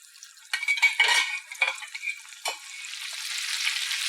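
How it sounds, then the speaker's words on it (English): Saffron water is stirred into fish and herb rice in a pan, giving a few short scraping and sizzling bursts close by, followed by a soft steady hiss of cooking. "Give a quick stir and put back fish again."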